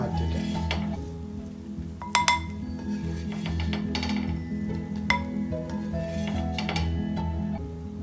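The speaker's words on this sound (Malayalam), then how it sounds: "കണ്ടോ ഫ്രൈ ആയി അപ്പോൾ നമ്മുടെ കൂന്തൽ തല ഫ്രൈ റെഡി" Squid heads fry in a pan with a steady low sizzle, while a utensil scrapes and clinks against the metal now and then in sharp close taps.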